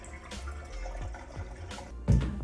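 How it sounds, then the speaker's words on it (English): Water splashing and running over stained vintage clothing during a final rinse in a sink, with short gushes and drips and a louder burst near the end. "this is the final rinse"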